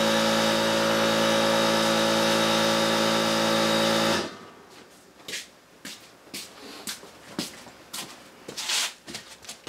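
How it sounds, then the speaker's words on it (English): An air compressor runs with a loud, steady, droning motor hum for about four seconds, then cuts off, leaving quieter scattered knocks and shuffling sounds. "that would be my air compressor kicking on"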